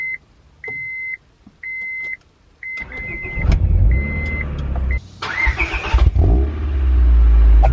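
Several short electronic beeps sound, then a Honda Prelude Type SH engine cranks and fires up, roaring briefly before settling into a loud, rumbling idle.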